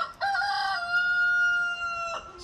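A rooster crows one long, drawn-out call close by, with chickens faintly clucking around it.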